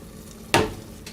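Chicken stock hits a pan of risotto with a sudden loud sizzling splash that fades over half a second, followed by a softer stirring hiss near the end.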